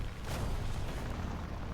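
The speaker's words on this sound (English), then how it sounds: "There's been an explosion." A broad, rumbling explosion in the aircraft combat game War Thunder, flown in a Bf 109Z-1, booms low and dense with a sharp onset, then rolls on steadily as noisy engine and battle din with no talk.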